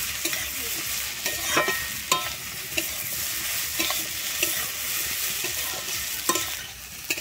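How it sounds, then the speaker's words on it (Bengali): Chili powder being stirred into potatoes and radish in a pan for a spicy tengra fish jhal, with a steady bright sizzle broken by repeated close scrapes of the spatula. "আমি ঝাল লঙ্কার গুঁড়োটা দিয়ে কিন্তু একটু ভালোভাবে নেড়ে নিচ্ছি আলু আর মূলোর সঙ্গে।"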